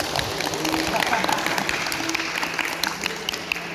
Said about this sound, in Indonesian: tepuk tangan dulu buat peraga ya.